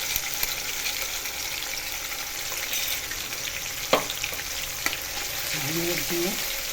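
Tomato gravy for matar paneer sizzles steadily in a pan with curry leaves, a continuous broadband frying hiss with a few sharp utensil clicks and a brief voice-like tone near the end.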